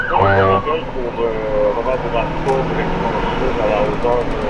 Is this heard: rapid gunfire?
no